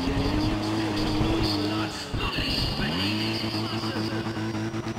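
A tuned Toyota Supra in Need for Speed The Run roars steadily at high revs, dipping briefly as it shifts, then climbing again, loud and continuous with faint tire noise.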